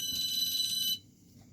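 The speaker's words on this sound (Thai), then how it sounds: "อย่างนาฬิกาปลุกพี่น้อง" An alarm clock gives about a second of bright, rapidly pulsing electronic ringing, then cuts off abruptly into near silence.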